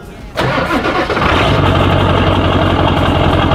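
A 2022 KTM 150 dirt bike cold-starts with a sudden loud catch, then settles into a steady, raspy, close idle that runs unbroken to the end.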